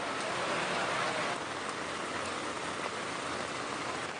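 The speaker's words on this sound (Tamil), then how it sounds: "இன்று காலை முதல் ஆலங்குடி, கரமக்குடி, திருமயம் உள்ளிட்ட பகுதிகளில் பெய்த கனமழையால் சாலைகளில் மழைநீர் பெருக்கெடுத்து ஓடியது" Heavy rain pours in a dense, unbroken hiss over the Alangudi, Karamakudi and Thirumayam area of Tamil Nadu, loud and steady throughout with no voices, as rainwater floods the roads.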